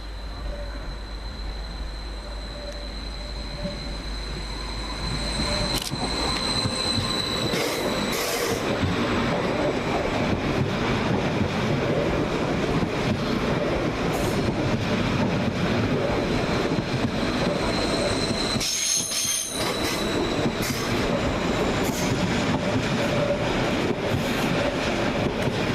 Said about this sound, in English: passing southbound through the station is 745107, working 1 Bravo 897 from Stansted Airport to London Liverpool Street